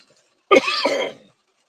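One harsh, throaty cough, close and loud, lasting under a second, with silence before and after.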